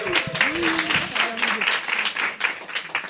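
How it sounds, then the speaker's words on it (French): An audience at a live business interview event claps in a sustained round of applause, with a voice heard over the clapping at the start. "avec un tonnerre d'applaudissements"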